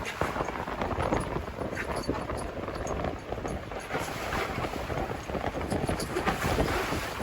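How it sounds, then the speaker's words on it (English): Strong wind of about 28 knots gusting to 31 roars and buffets continuously, with gusty rumble and faint rattling throughout. "it's getting windy"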